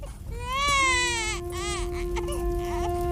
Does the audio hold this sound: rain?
no